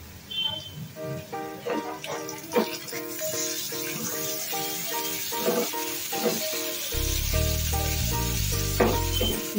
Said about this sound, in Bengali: পেঁয়াজটা একটুখানি ভাজা ভাজা হয়ে গেলে এখন আমি এর মধ্যে দিয়ে দেবো সেদ্ধ করে রাখা আলুগুলো